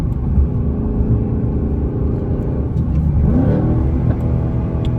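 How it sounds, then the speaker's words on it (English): A 2024 Ford Mustang GT V8 with a manual transmission, its engine droning loud and close at steady revs, then rising in pitch partway through during a downshift. "let's go ahead and start downshifting"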